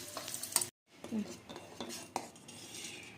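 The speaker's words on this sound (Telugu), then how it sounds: "జీడిపప్పులు వేసుకుని కిస్మిస్ కూడా ఇందులోనే వేపుకోవాలి" Cashews and raisins are fried and stirred in a pan for a Telangana-style payasam, with close metallic scrapes and clinks of a spoon against the pan over a faint sizzle, broken by a brief silent gap.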